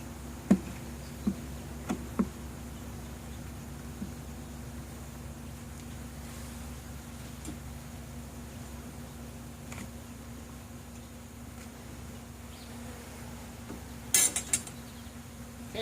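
Honeybees from nuc frames being installed into a hive create a faint, steady low hum with a few soft knocks and clicks of frames and equipment scattered throughout.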